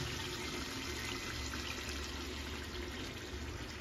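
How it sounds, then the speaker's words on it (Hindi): Water poured into a pan of fish curry being cooked, a steady broadband rushing flow that continues evenly throughout at moderate level with no talk. "और अभी थोड़ा पानी डालेंगे।"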